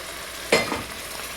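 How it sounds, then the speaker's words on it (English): Boiling vegetable stock is poured onto sautéing basmati rice, setting off a sudden loud sizzling hiss that quickly settles into steady frying crackle. "Here comes our lovely boiling vegetable stock."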